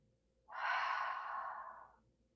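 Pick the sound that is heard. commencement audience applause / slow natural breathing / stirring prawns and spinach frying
slow natural breathing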